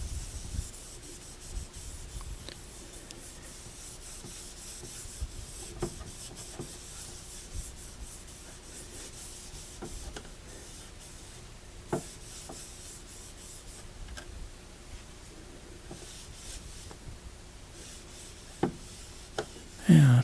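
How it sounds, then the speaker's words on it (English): Bakelite having a very small amount of stain rubbed onto it by hand, a steady soft rubbing and scuffing close up with a few sharper ticks and knocks over about twenty seconds. "I'm using very, very little amount of stain here, and we'll just rub it on"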